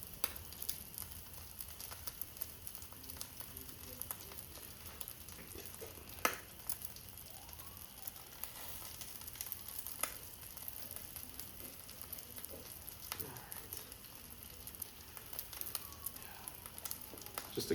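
Crispy beef tacos sear in a pan, giving a soft, quiet crackle with scattered small pops and the odd scrape throughout.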